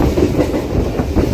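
An express train on the line toward Chennai rushes past at speed, a loud, steady roar with rhythmic clatter of wheels over rail joints.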